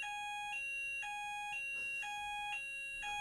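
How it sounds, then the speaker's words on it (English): A fire alarm rings indoors in steady repeating electronic beeps about twice a second, a bright tonal pulse heard fairly faint and alone. "Fire alarm."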